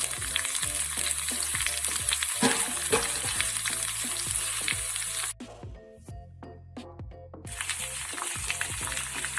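Beetroot sizzles and crackles steadily in a hot pan, broken by scraping stirs and a brief quieter pause before the frying noise returns.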